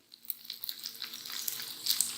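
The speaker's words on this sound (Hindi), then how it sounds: "एक टाइम में हम इसमें 3 आराम से फ्राई कर लेंगे।" Scotch eggs frying in hot oil, three at a time in a home kitchen, giving a close, steady crackling sizzle with sharp pops that builds slightly toward the end, with no talking.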